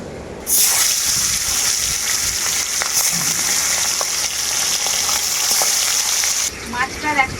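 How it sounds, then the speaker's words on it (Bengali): Sea chanda fish rubbed with salt and turmeric drops into very hot mustard oil, setting off a sudden loud, dense sizzle that holds steady and close for several seconds before easing into softer bubbling. "লবণ হলুদ মাখানো মাছগুলো আমি এখন তেলের মধ্যে দিয়ে দেবো"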